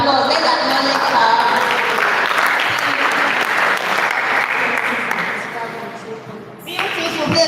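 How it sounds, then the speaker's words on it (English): An audience at a food week event breaks into sustained applause, loud and steady for several seconds with some cheering mixed in, easing slightly before swelling again near the end. "Let's give her a round of applause."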